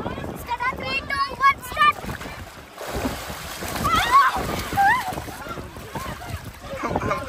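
People dip into cold river water near Sangameswaram, making close, irregular splashes and sloshing that rise and fall under frequent chatter from several voices, including a child.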